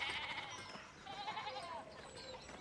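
Sheep bleat in the narrative adventure game Pentiment, several wavering calls overlapping one another, soft and somewhat distant, over a quiet outdoor ambience.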